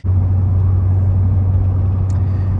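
A Ford Super Duty pickup rolls down the road, its steady low engine and road rumble droning from inside the cab without a break.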